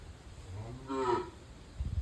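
A tethered calf on a rainy Konkan farm gives a single short, close moo calling for its mother, rising and fading within about a second against quiet background rustle.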